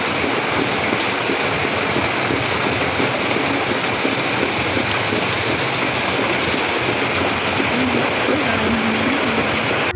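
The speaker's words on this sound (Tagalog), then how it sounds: "sobrang lakas ng ulan kahit summer na" Heavy rain pours down on a summer morning in a steady, dense, loud hiss of drops with no let-up and no voices.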